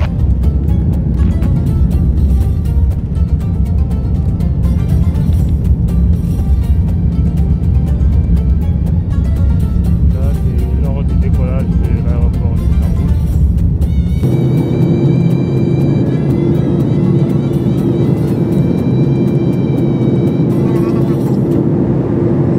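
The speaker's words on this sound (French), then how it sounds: "Nous sommes sur le point de décoller d'Istanbul vers la direction de N'Djamena" Jet airliner on the runway at Istanbul ahead of departure for N'Djamena, Chad: a steady, loud cabin rumble that shifts partway through into a deeper roar with a high whine, continuous throughout.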